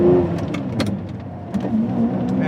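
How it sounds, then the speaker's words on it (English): A 2003 Lamborghini Murciélago V12 with a manual gearbox roars briefly and loudly up close, its engine note dipping and then picking up again as the gears change. No voices are heard. "And those gear changes, so visceral."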